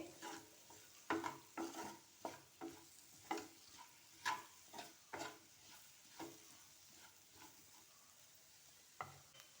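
Capsicum and green chilli frying in a pan for a capsicum besan fry, a soft sizzle broken by a steady series of close stirring scrapes about every half second, fairly quiet and without talking.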